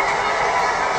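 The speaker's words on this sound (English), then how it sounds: "crowd's cheering the squirrel" A baseball stadium crowd at a Pittsburgh Pirates versus Chicago Cubs game cheers a squirrel, a brief, dense roar of many voices filling the ballpark.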